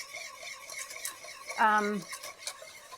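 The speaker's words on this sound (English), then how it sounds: "Ooh, I need to stir this." Semi-sweet chocolate melting in a double boiler is stirred with a utensil, giving soft scraping and swishing close by, with a brief harmonic vocal sound partway through.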